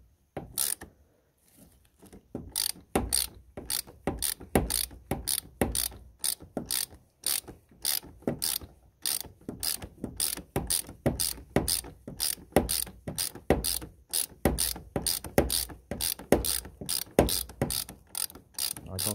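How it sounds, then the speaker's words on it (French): A ratchet spins to unscrew an engine's oil drain plug in a long run of sharp, evenly spaced clicks, close and loud, keeping a steady quick rhythm after a short pause at the start. "Je dévisse."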